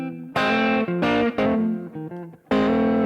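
An electric guitar plays a short distorted blues lick that bends and slides toward the third, with sustained notes broken by brief gaps and a final strong note, no voice.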